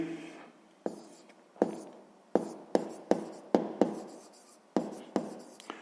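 Pen writing out a sixth-grade math solution on paper, a series of sharp scratchy strokes and taps in an irregular rhythm, close and fairly quiet, with no talking.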